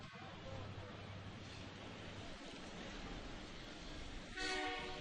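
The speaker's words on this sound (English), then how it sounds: "We've got a train on either side of us now." A train rumbles past during a holiday lights parade with steady broadband noise, then a loud horn blast sounds near the end, strong and close.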